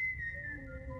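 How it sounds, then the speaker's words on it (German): A person gives a short, faint whistle with a steady high tone that slides slightly, heard alone against a low background rumble. "Du darfst bitte nicht pfeifen."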